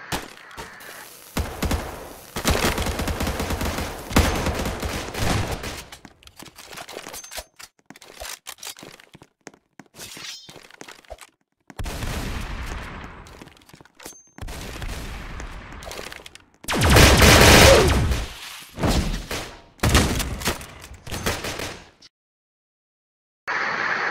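Bursts of gunfire from the Roblox shooting game Weapon Kit crackle in loud clustered volleys and rapid strings, separated by short quiet gaps, with thuds mixed in and no talking.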